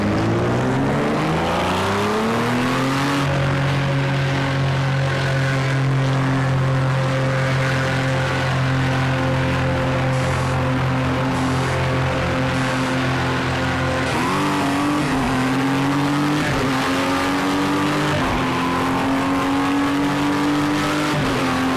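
Sports race cars roar around the Daytona Road Course in Project Cars 2, with a loud sustained engine drone that climbs through gear changes, drops and revs again, steady and close throughout.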